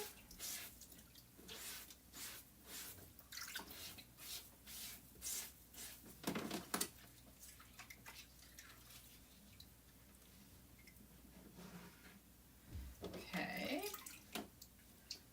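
Tap water runs and splashes intermittently while chalk transfers are washed with a board eraser, giving bursts of spattering and dripping with rubbing between them at close range, fairly soft, with no voice.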